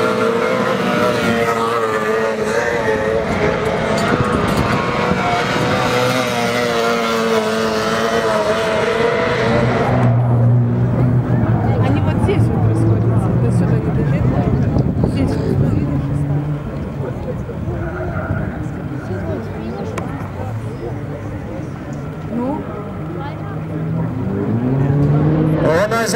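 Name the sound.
Formula 4 race cars racing at Speed Festival Kurzeme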